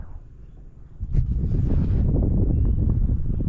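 Gusty wind blows outdoors at a fishing spot, a low rumbling buffet against the microphone that swells louder after the first second and keeps roaring steadily.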